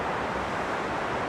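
A river roars through the narrow rock walls of the Grindelwald glacier gorge, a steady, loud broadband rush of water with no breaks and no voices.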